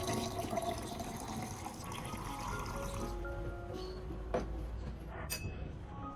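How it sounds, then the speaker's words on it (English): Clean filtered water poured into a prepared solution for an orchid plant, a continuous splashing, rushing stream that thins toward the end into lighter trickles and a few close drips. "add 500 milliliters of clean filtered water to the solution"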